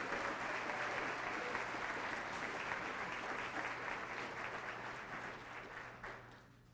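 Sustained audience applause fills a volunteer appreciation night in Lansing, with dense clapping that holds steady and then tapers off toward the end.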